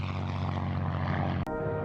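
A Spitfire's propeller engine roars in a steady, loud, continuous drone, cut by a brief dropout near the end before the roar resumes.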